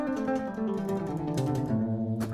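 Electric guitar playing a triplet pull-off exercise, a steady run of quick rolling three-note groupings with sustained, slightly driven tone, played alone and close.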